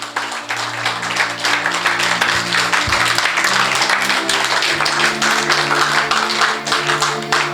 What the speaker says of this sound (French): Tiens-toi debout et acclame très fort le Seigneur